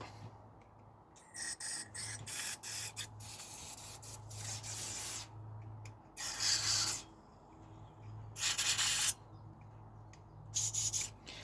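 Repeated short hissing bursts of cleaner sprayed from an aerosol can onto a Ryobi carburetor, close up, separated by quiet pauses.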